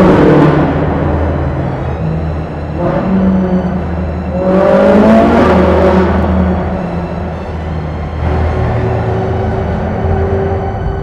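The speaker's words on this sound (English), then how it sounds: "I'm going to put the 458 Spider into automatic and just hear what this engine sounds like." A Ferrari 458 Spider engine drones and rises in pitch in several revving surges in automatic mode, loud and echoing in a tunnel, with no talking.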